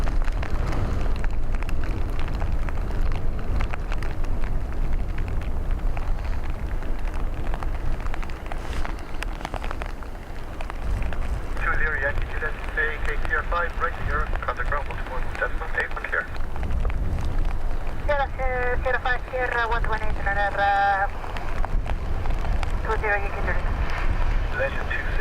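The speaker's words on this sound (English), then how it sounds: "Gusts picking up, as you can probably hear." Gusty wind roars and buffets the microphone in steady waves at Dublin Airport, with a faint voice and some brief tonal chirps partway through.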